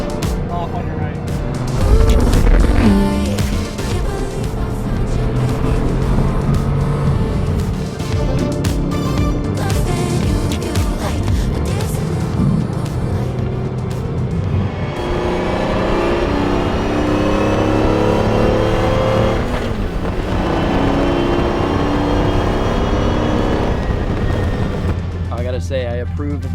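A Mercedes CLK GTR Roadster engine roars loudly as the car accelerates on the road, with a continuous rising and falling drone and gear changes, while an excited voice talks and whoops over it.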